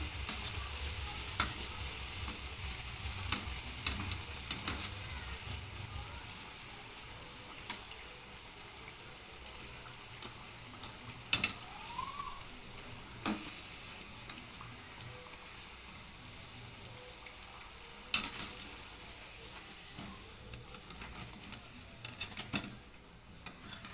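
Sweet lentil-filled Rayalaseema karjikaya dumplings frying in oil in a wide kadai, six at a time, giving a continuous low sizzle with scattered pops and utensil ticks throughout.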